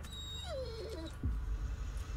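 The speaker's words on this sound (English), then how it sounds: "The dog's in misery." A dog whimpers in distress in the horror video game Blair Witch: a thin, wavering whine that rises and falls, followed by a short low yip, fairly quiet over a dim background rumble.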